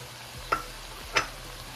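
Onion and chiles de árbol frying in a pan, a continuous sizzle with two sharp stirring scrapes or spatters standing out above it, close and fairly quiet.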